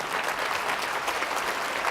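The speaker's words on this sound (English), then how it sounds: "Let's give them a round of applause." Audience at an opening plenary session of a conference applauding, a dense, even patter of many hands clapping on its own for a couple of seconds.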